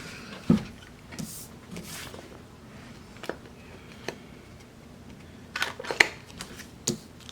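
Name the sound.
punching planner stickers with a paper punch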